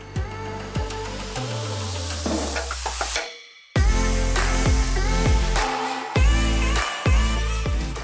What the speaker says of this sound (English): a huge synth sound comes in and just overwhelms any other audio that's in the video